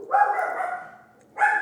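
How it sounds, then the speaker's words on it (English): A dog barks twice, close and loud, with a longer first bark and a short second one after a brief pause. "But here we go again with the fucking dog."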